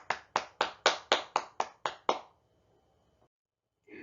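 Nine sharp, evenly spaced claps from a class praising each other in a Korean history lesson at a mock-teaching contest, loud and close together, ending abruptly into near silence.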